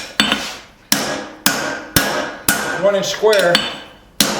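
Hammer blows on hot steel while forging a drifted eye tomahawk, about seven sharp ringing strikes spaced roughly half a second apart, loud and close, with a short metallic scraping between blows and a brief spoken phrase.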